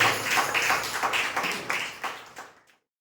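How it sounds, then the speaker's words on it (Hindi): A church congregation breaks into loud, steady applause during a Sunday worship service, many hands clapping together at close range before the sound tapers off and ends in silence. "आइए एक जोरदार ताली हमारे केवल खुदावन यीशु मसीह के लिए हम सब करें।"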